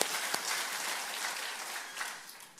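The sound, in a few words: congregation applauding in church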